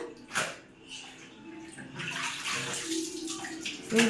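A child hand-washing pants in a tub of water, splashing and sloshing steadily up close, with soft voices faintly in the background.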